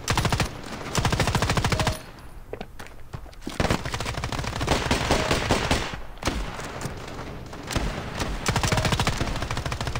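M4 rifle gunfire in the first-person shooter Standoff 2, loud rapid automatic bursts that run almost continuously with brief pauses between volleys.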